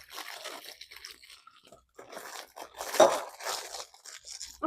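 A sleeve of Ritz crackers being crushed for a squash casserole topping, close, crackly crunching bursts with short pauses between them, with no talking.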